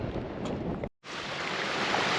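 A mountain stream in Glen Affric rushes in a steady broadband wash up close. The sound cuts out briefly to near silence, then returns at the same level.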